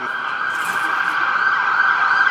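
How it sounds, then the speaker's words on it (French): Ambulance siren wailing steadily along a Montreal street, loud and continuous with a sustained high tone over traffic noise throughout. "C'est une ambulance."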